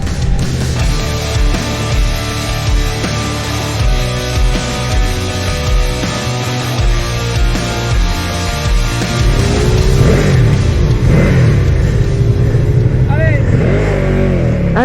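A Ducati Streetfighter V2 motorcycle engine roars on the Monteblanco race circuit, loud and close, revving up and down through gear changes and growing louder toward the end.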